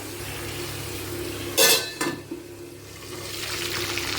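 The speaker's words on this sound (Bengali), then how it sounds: "এই মাংসটাকে কষাবো না তো এটাকে কিন্তু ঢেকে ঢেকে ভাজতে হবে" Marinated meat pieces fry in oil in a covered pan, giving a steady soft sizzle with two sharp metallic utensil clatters partway through. The sizzle grows brighter near the end; no one speaks.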